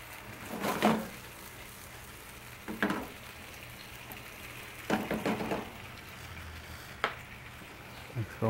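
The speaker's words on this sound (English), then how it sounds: "one thing about the stir fry, you just keep moving it around and it'll be fine" A stir-fry with shiitake mushrooms crackles softly in a hot pan, with a faint continuous sizzle broken by several louder bursts as the food is tossed or stirred.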